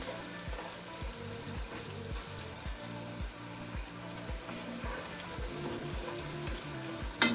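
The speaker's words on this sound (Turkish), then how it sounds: "Bu arada bir yemek kaşığı salçamızı ekledik. Biber salçamızı. İyice içinde kavuruyoruz." Pepper paste fries with fresh green beans in olive oil, a soft sizzle under regular rhythmic scraping strokes of a spoon stirring, ending with a louder knock.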